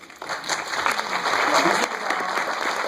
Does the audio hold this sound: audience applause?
yes